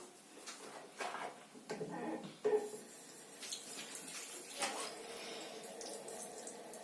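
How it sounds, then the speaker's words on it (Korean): Water from a bathroom sink tap runs steadily during face washing, a fairly close, soft splashing hiss with a few louder bumps and surges as hands move under the stream. "반대쪽도 이제 물 틀고"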